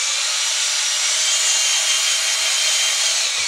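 A power drill whirs steadily and loudly, churning wet drywall mud in a bucket, close up with no speech.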